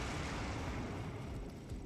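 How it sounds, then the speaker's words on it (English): A dull, broad rumbling boom fills nearly two seconds at steady loudness, an explosion in the video game Elden Ring heard without any talk over it. "I think I heard an explosion."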